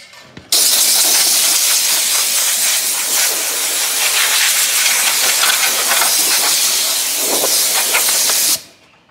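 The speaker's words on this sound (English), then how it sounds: "Just grab the air blower real quick." An air blower blasts compressed air over a Cub Cadet 1450 tractor part, a loud continuous hiss lasting about eight seconds that starts and stops abruptly.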